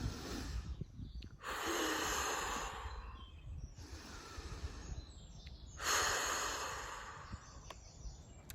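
Slow breathing exercise with long, audible breaths drawn in and pushed out in a steady rhythm, three extended airy exhalations separated by quieter pauses, close and fairly soft.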